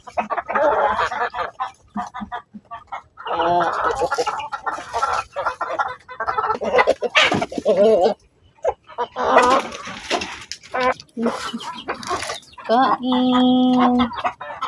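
Backyard chickens fed coconut cluck continuously up close, a busy overlapping flock chorus with short pauses and a louder squawk near the end.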